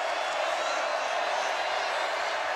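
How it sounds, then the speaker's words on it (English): Dense roar of a football stadium crowd at an Oklahoma State versus Baylor game, steady and loud throughout with no break, a broad wash of cheering as Baylor's defense faces third down. "Crowd is up."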